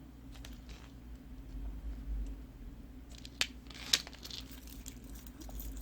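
Scissors snip through t-shirt yarn while finishing a macrame key chain, two quiet, sharp cuts close by over a low steady background hum.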